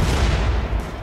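Heavy gunfire in the colony-building video game RimWorld as raiders shoot at a dog, a loud dense rumble of overlapping shots and booms filling the whole moment.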